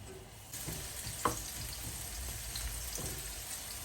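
Chopped onion sautés in a pan for a vegetable frittata, giving a soft, steady sizzle with a few brief clicks and scrapes of stirring. It is heard up close and fairly quiet, with no talking.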